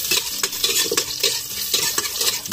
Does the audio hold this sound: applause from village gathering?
no